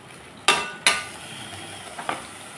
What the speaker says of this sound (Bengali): আমি মশলাটাকে ভালোভাবে কষিয়ে নেব আলুর সাথে।